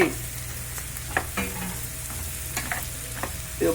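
Beetroot frying in a pan, a soft steady sizzle close by with a few scraping stirs of a spoon, no talking over it.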